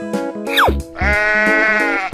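A cartoon sheep bleats loudly and close over light music: a short call, a falling whistle-like effect, then a long sustained wavering baa.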